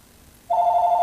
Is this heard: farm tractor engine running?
no